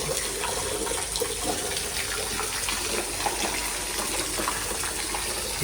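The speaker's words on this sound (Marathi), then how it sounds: "हे बघा पाणी पडते" Water falls steadily into a dug well beside coconut and areca palms near the sea in Alibag, a continuous broadband splash and rush that stays even throughout with no voices.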